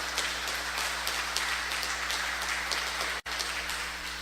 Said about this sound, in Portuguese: Pode aplaudir bem forte o nome de Jesus.